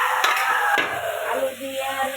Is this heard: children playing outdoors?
no